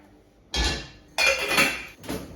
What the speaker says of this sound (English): So let's boil some water